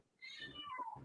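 A cat gives one drawn-out meow, close and fairly loud, its pitch sliding downward over about a second after a brief quiet start.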